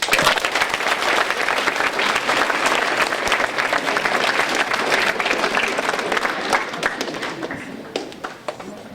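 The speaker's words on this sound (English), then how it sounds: "Let's clap it up for your parents." Loud, close audience applause at a lecture, many hands clapping in a dense, lively burst that holds strong for several seconds before thinning out and tapering toward the end.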